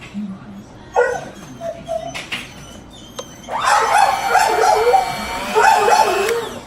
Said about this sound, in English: Oh, sorry for my dog, he saw something out there.